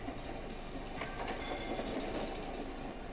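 A freight train runs on rail tracks along a dedicated freight corridor, a loud continuous rumble with rattling wagons and faint clickety-clack, heard alone without voices.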